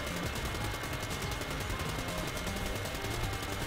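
Rapid gunfire from the Call of Duty Black Ops III video game, Dead Ops mode, rattles as a dense continuous burst of shots throughout, loud and unbroken, with no speech.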